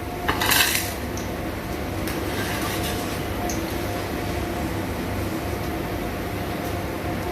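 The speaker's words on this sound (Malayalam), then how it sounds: "ഞാനതിനെ വറുത്ത് കോരി എടുക്കുകയാണേ" Fried boondi is scooped from hot oil for a mixture snack: a metal ladle clinks and scrapes against the pan over a steady, close frying hiss, with the sharpest clatter near the start.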